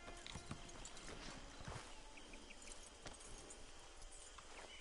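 Horse hooves clip-clop in Red Dead Redemption 2, a steady patter of steps close by over a constant bed of ambient game noise, with faint jangling tack in places.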